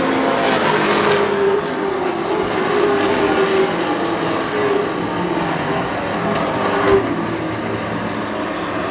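Race cars roar around the track in a continuous loud engine drone, several cars passing together with no talk.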